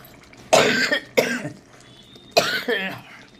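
Three harsh coughs from a person with a cold, spaced about a second apart, close and loud against a quiet room, with no speech.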